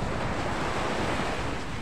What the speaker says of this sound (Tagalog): Napakaganda ng ating karagatan. Medyo maalon nga lang